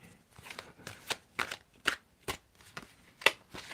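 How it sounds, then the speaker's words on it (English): Cards are shuffled in a series of soft, rhythmic riffling bursts, close by, with short pauses between them. "so you can tell me when to stop shuffling, Crystal."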